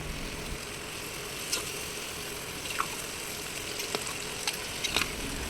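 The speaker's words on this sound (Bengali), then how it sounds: "এবার ম্যারিনেট করা চিকেনটাকে আমরা আস্তে আস্তে মশলাটাতে দিয়ে নেব" Marinated chicken being added to a spice masala already fried until the oil separates, giving a steady close sizzle and frying hiss with occasional clinks and stirring taps, no talk.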